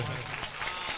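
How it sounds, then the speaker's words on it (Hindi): Brief applause from an audience at a kavi sammelan and mushaira poetry gathering in Birpur, Bihar, a soft, short patter of clapping hands. "एक बार पूरा मजमा बेदारी के साथ तालियों से इस्तकबाल करें"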